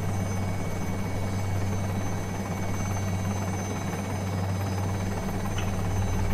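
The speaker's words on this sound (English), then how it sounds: "That looks like a freaking helicopter." Helicopter flying in a video game, a continuous rotor drone with a steady low hum and pulsing thrum at moderate volume, with no talk over it.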